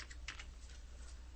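Typing on a computer keyboard, a few faint, quick key clicks over a low steady hum.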